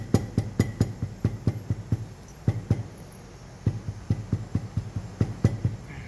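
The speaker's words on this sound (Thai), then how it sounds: "ค้อนทุบตัวนี้เบาๆ" A hammer taps lightly and repeatedly on a leather bag in quick bursts of soft, dull knocks, with a brief pause midway before the tapping resumes.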